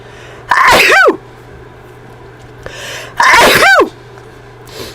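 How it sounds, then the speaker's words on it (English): Two loud, close sneezes, each with a sharp rising intake and a burst, spaced about two and a half seconds apart over a low steady hum. "Like a sneeze."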